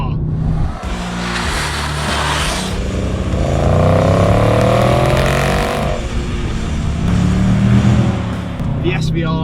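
Range Rover Sport SVR from 2021 with a 5-litre supercharged V8 making 575 horsepower, its engine loud and close as it revs and accelerates through rising gear pulls, with one pass sweeping up in pitch mid-clip.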